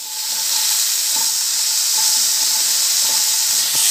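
Peas frying in a pan with turmeric and salt, giving a steady, loud hiss of sizzling throughout with faint scrapes from mixing.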